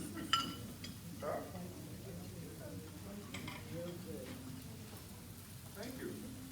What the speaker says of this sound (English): it comes to your table smoking hot, just like this. You'll even hear the sizzle.